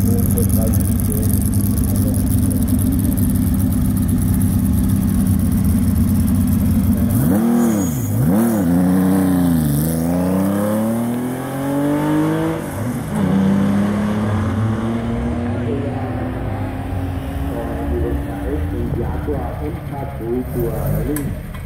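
Ford Capri 2.3 litre GT race car at an ADAC classic racing event, engine droning steadily, then revving up and down through gear changes before settling into a rising pull, with commentary over it.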